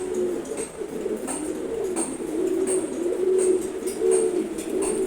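Pigeons cooing steadily in a loft, including a cream-grey and an ash-coloured bird, low rolling coos repeating almost continuously with a few faint higher chirps over a quiet background.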